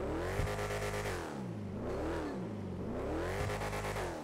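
A Lamborghini Sian engine in GTA 5 revs repeatedly, each blip climbing then falling in pitch, loud and close, with no voices over it.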